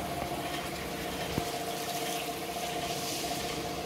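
Water poured into a pot of fish curry during village cooking, a steady, continuous pouring and bubbling wash that runs throughout at moderate level, with no talk.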